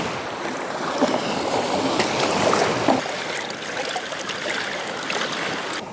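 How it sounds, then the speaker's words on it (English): Water swirls and sloshes up close as beach sand from the Lake Superior shore is panned for gold, a continuous churning wash with no talking. "Swirl it down and pan that."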